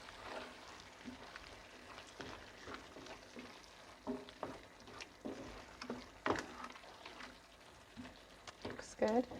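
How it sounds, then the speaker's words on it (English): Tomato sauce with basil and parsley is stirred in a pot, soft scraping and bubbling sizzle with a few sharper spoon clinks, faint and close, with talk over it. "Give that a stir."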